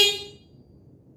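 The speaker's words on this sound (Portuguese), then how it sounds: "Buzina do lado esquerdo." A single short electronic horn beep from a Gloov Citycoco P5 electric scooter, left-side button, bright and clipped, quickly fading into quiet background noise.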